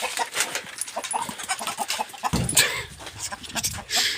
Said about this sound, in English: Got 4 clucky hens in here.